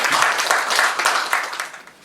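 Audience applause at a coaching session, a short dense burst of many hands clapping that tapers off after about two seconds.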